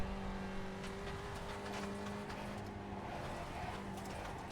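A Spec Racer Ford race car engine at wide open throttle on the Barber circuit, a steady loud in-car drone with sustained tonal whine and a faint tire rumble over a curb, no voices.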